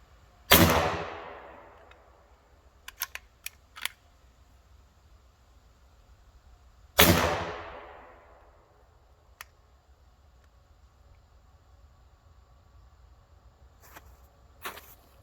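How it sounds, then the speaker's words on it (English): Two loud shots from a .50 caliber airgun fired at a tree stump outdoors, each a sharp crack with a decaying tail, followed by scattered small clicks and taps between and after. "I'm going to shoot at this stump off to the right here."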